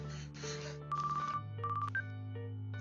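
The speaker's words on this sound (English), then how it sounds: "A phone call." A phone rings in the Oreimo visual novel game, a quiet electronic tone that warbles and repeats in short bursts over a steady background music hum.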